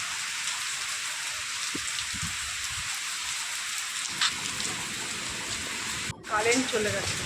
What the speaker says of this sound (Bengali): জোরে বৃষ্টি পড়ছে দেখছি